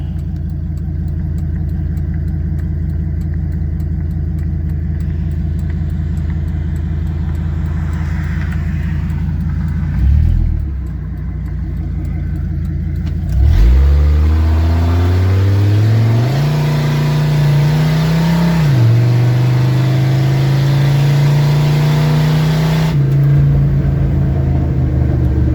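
A 2000 Dodge Ram 2500 4x4 pickup with a V10 engine idles with a deep rumble, then revs up hard into a sustained loud burnout with a steady high engine drone, close and without talk.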